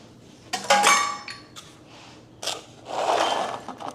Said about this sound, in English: Now to this, we're going to add the pecans.